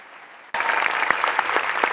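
Delegates in a conference hall rise in applause. After half a second of near silence, dense, steady clapping bursts in and continues loud and full, with individual sharp claps standing out in the crowd.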